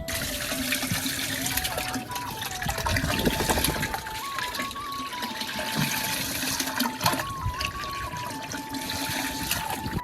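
Water gushes and trickles continuously from a hose filling an overhead tank, a steady close rush of filling liquid with a faint shifting tone above it throughout.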